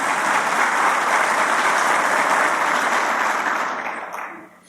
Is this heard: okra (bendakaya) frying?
no